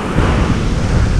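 Strong wind blowing by the sea, a loud, steady roar of broadband rushing noise buffeting close to the microphone throughout.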